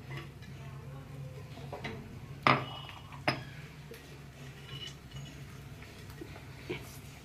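Mashed banana stem being stirred constantly in a pan, with sparse metallic clinks and scrapes of the spoon against the pan, two louder knocks standing out over a low background hum.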